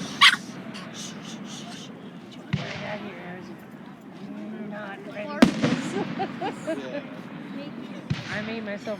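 Rapid-fire fireworks burst outdoors in a string of sharp cracks and pops, a few louder bangs standing out over crowd noise, with people talking and a dog nearby.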